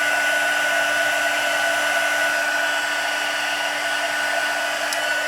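A heat embossing tool blows a steady, loud hot-air roar as it melts embossing powder on paper, a constant airflow hum that continues unbroken throughout.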